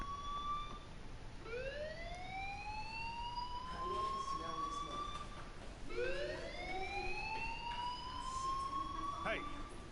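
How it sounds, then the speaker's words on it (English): A fire alarm wails in the Life is Strange video game, its rising siren sweeping upward twice in a repeating cycle at a steady, moderate level over background room noise. "do you hear that fire alarm?"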